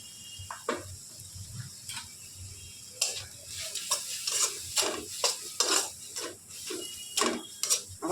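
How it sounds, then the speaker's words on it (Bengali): Turmeric, cumin powder and salt being worked with a spatula in a hot pan for a papaya and aar fish curry, giving repeated close scraping strokes over a soft, steady sizzle. "আবার ভালো করে কষিয়ে নিচ্ছি"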